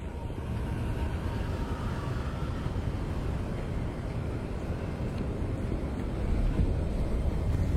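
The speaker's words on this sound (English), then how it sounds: "It's a bit windy." Wind gusts outdoors in a constant, loud broadband rush buffeting the microphone, swelling slightly toward the end with no talking.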